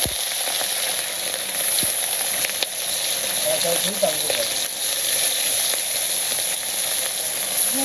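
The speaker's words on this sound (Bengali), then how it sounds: "মাছগুলা দিয়ে দিতেছি তেল গরম হয়ে গেছিল" Fish sizzling and frying in hot oil in a village kitchen, a steady dense crackle running throughout with occasional stirring clatter, fairly close and loud.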